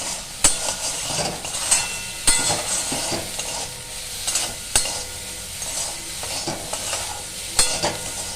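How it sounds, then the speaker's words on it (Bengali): Eggplant pieces frying in hot oil in a Bengali home kitchen: a steady sizzle broken by sharp scraping stirs roughly every second or two, close and fairly loud with no talking. "ভাজা যাক লাল করে।"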